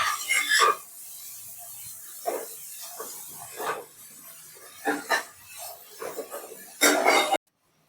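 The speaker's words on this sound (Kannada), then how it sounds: "ಈಗ ಕ್ಯಾರೆಟ್ ಹಾಕೊಳ್ಳೋಣ, ಬೀನ್ಸ್ ಹಾಕೊಳ್ಳೋಣ, ನೀಟಾಗಿ ಫ್ರೈ ಮಾಡ್ಕೊಳ್ಳೋಣ" Carrots and beans stir-fried for veg fried rice, with a spatula scraping and clinking against the pan in short, irregular strokes over a faint sizzle, close and clear.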